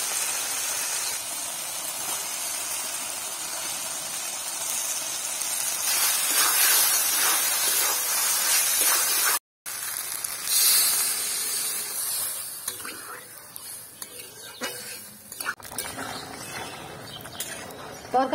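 Fried potatoes added to a pan of cooked spice masala give off a close, hissing sizzle that is strongest early, breaks off briefly, then thins into softer, patchy crackling with scraping clatter.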